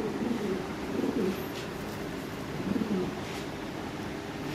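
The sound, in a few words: Lahori fancy pigeon cooing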